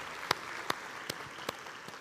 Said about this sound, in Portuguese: Eu queria que você aplaudisse ao Senhor por esse exemplo